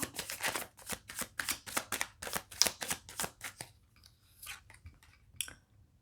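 Tarot cards being handled and spread during a reading, a quick run of crisp close flicks and shuffles that thins out into a few scattered soft slides.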